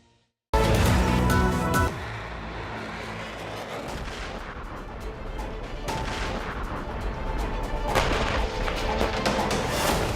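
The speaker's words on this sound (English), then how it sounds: "You can hear explosions." Heavy booming blasts from airstrikes on Jabalia, Gaza, burst out one after another, loud and continuous, with rumbling crashes overlapping through the whole stretch and no speech.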